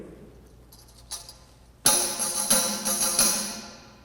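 A tambourine jingles softly, then is struck sharply and shaken in a series of rhythmic bursts of bright, rattling jingles, heard alone.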